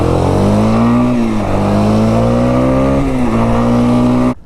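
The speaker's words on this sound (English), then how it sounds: "This is a 2001 350 Warrior, pretty much all stock exhaust." A 2001 Yamaha Warrior 350 ATV with mostly stock exhaust, carburetor just cleaned, revs hard in snow: a loud, close engine holding a high buzzing drone with a few dips and climbs, then cutting off abruptly at the end.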